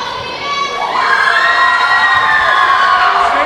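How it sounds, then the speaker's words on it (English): A basketball crowd at a boys high school game, Palmer vs. Renaissance, roars and cheers after a big blocked shot, with shouting voices rising loudly and holding steady throughout, close and full. "Crowd likes that one."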